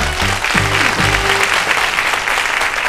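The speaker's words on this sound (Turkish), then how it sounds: "Alkışlayalım." Studio audience applauding on a Turkish quiz show, a steady broadband wash of clapping that holds at an even level from start to finish, with some brief low tonal sounds near the beginning.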